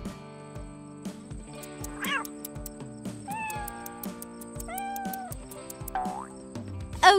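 A cartoonish cat meows several times over a bouncy, plinky music track in an animated DIY doll story, each meow short and rising, with no talk.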